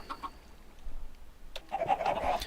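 Chickens on a semi-automated chicken farm in Minecraft with the Redpower 2 mod, giving short clucks and squawks, faint at first and then a louder burst of clucking near the end.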